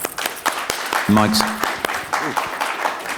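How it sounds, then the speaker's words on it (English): Audience applause for conference panelists fills the room with dense clapping, and a voice speaks briefly over it partway through. "a big round of applause for our panelists here today"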